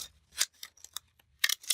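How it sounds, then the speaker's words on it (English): Scissors cut paper for a collage project in a journal, with several crisp, close snips in an uneven rhythm and quiet gaps between them. "when I use scissors"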